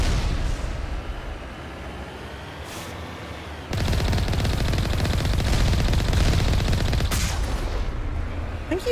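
Enemy gunfire in Mass Effect Legendary Edition rattles in rapid, dense bursts, quieter at first, then surging into loud, sustained automatic fire from about the midpoint, with occasional louder cracks.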